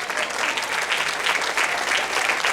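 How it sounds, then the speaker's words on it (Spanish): Church congregation applauding after a sermon, a dense, steady wash of clapping from many hands that holds at even loudness throughout, with no distinct voices. "Dale un aplauso al Señor."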